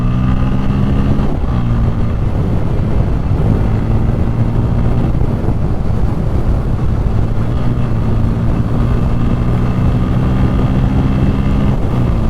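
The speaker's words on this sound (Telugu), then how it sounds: "ఇంజన్ అయితే మాత్రం చాలా స్మూత్గా ఉంది." Bajaj Pulsar N160 motorcycle engine running smoothly while being ridden in first gear, a steady close droning hum with constant loudness throughout, no talking.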